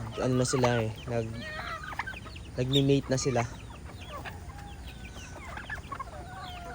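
Chickens cluck and squawk nearby in bursts, with a person speaking over them partway through and other farm birds chattering in the background.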